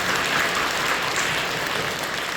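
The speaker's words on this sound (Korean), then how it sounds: "박수를 건네해 주시죠." Church congregation applauding during an Advent worship service, a dense, steady wash of many hands clapping throughout, fairly loud and continuous with no talk over it.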